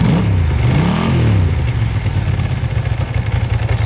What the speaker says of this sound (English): That's a little bike. She makes a real nice sound.